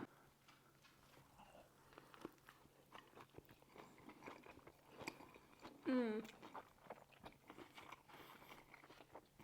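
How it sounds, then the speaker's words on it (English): Someone bites into chicken fajita tacos topped with green onions and sour cream, with soft close crunching and chewing in irregular bursts and a brief vocal sound partway through. "First bite of the tacos."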